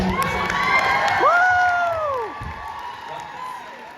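An audience at a fan convention Q&A panel cheers and applauds, a loud crowd roar with a rising whoop standing out, fading over a few seconds.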